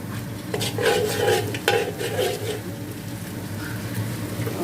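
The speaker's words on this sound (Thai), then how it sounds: "เราใส่เต้าเจี้ยวลงไปผัดให้มันหอมนะคะ" Fermented soybean paste stir-fried with chopped shallots in a pan for a pink rice-vermicelli dish, giving a steady close sizzle broken by a few scraping stirs of a utensil against the metal.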